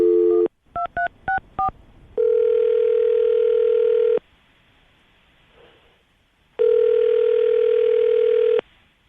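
A telephone on a morning radio show is dialed with a quick burst of keypad tones, then the call rings out with two long, loud, steady ringback tones separated by a quiet pause.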